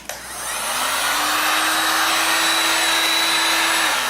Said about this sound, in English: And then we're going to put the heat on it.